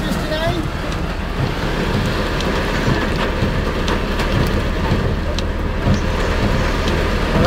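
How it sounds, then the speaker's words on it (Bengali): Small hailstones falling at night during a heavy thunderstorm in Laksam: a dense, loud, unbroken roar of pelting ice and rain on surfaces, steady throughout. "ছোট ছোট শিলা পড়তেছে, রাতের জন্য ক্যামেরাতে দেখা যাচ্ছে না শিলাগুলো।"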